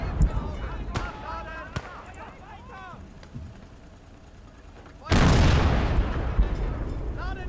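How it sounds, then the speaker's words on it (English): Artillery bombardment in a World War II strategy game on the Eastern Front: scattered distant bangs early on, then a heavy, loud roaring barrage of explosions erupts and rumbles on steadily to the end. "Requesting call sign Würsing to bombard the designated area."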